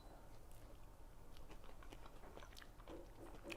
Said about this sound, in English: Let's go straight in there with a bite.